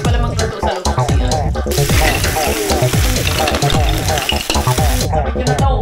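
Food frying and being stirred in a pan inside a toilet room, with a loud, close sizzle running throughout, scraping stirs and clattering utensils, and nearby running-water noise.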